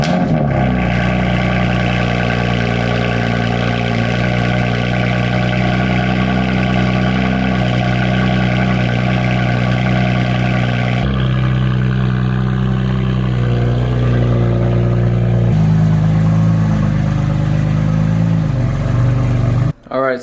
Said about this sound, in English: give you guys a little cold start